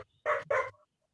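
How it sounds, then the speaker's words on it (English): A dog gives two quick, close barks in succession, followed by a faint short whine, against an otherwise quiet background. "Oh, there's a doggy there."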